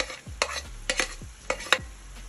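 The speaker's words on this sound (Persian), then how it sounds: "با کفگیر شروع میکنم به باز کردن بافت گوشت" A spatula scrapes and stirs ground meat in a hot pan, breaking it apart with about six sharp scraping strokes over a soft sizzle, close and fairly loud, no voices.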